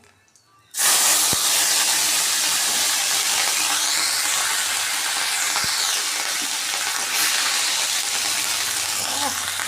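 Ground spice paste hits hot oil with cumin seeds, bursting into a loud, steady hiss and spatter that starts abruptly and continues throughout, with occasional sharp pops.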